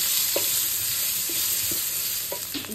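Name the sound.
onions frying in a pan with turmeric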